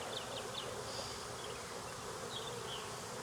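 A honeybee queen buzzes about close to the hive, giving a steady insect drone that runs through the whole stretch, with brief higher buzzy streaks now and then and no talking.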